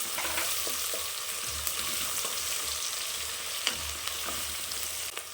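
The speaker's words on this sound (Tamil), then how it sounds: "அப்போ தான் நல்லா வெங்காயம் வதங்கும்." Sliced onions with salt sizzle steadily in hot oil in a pan for vegetable biryani, a continuous close crackle with soft stirring scrapes and no talking.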